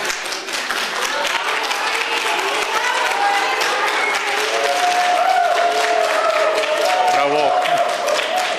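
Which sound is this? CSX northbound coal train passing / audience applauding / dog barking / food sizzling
audience applauding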